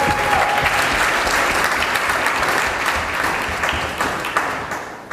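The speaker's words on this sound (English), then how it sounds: "we should give a big round of applause" An audience at the SHAPE Africa 2014 gathering in Abuja gives a big round of applause, loud, dense clapping filling the room and slowly tapering toward the end.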